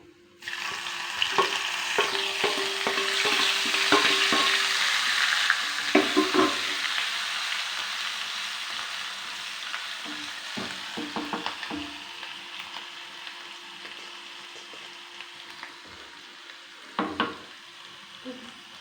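Ginger garlic paste sizzles steadily in a pan for a restaurant-style matar paneer, with a constant frying hiss broken by clattering stirring scrapes and spoon knocks, close by and with no talking.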